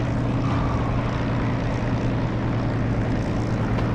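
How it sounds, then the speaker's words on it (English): A propeller aircraft engine in a DCS or War Thunder flight sim drones loudly on a runway, a thick, steady rumble with a low hum that holds close and constant, rising slightly toward the end. "Listen for the engine noise picking up, getting louder."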